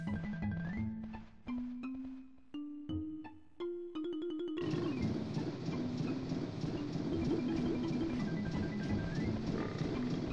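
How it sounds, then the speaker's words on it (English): A train pulls into the station in the Banjo-Tooie video game, a steady rumbling, clattering roll that starts after a run of rising musical notes and carries on loud and continuous to the end, with no talk. "I think I heard the train arrive."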